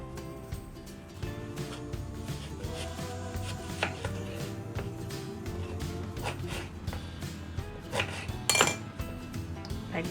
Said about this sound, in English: So let's first cut the mango.